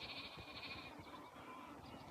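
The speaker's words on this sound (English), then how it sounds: "Let's listen to the sheep a little first." Sheep bleating outdoors, faint wavering calls over a soft ambient background, one bleat early and fainter ones after, with no voices.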